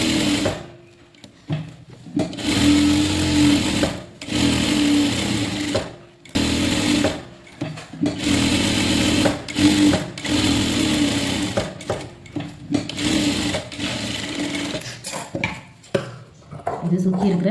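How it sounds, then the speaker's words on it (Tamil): A sewing machine stitches around the lining of a blouse in long steady whirring runs, stopping and restarting several times, loud and close, with no one talking. "அந்த லைனிங் இருக்கு இல்லையா சுற்றியும் தையல் போட்டு"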